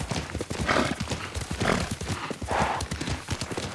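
A horse in the game Ghost of Tsushima gives repeated, close clip-clop hoofbeats on the ground and a whinny, with a steady rhythm throughout.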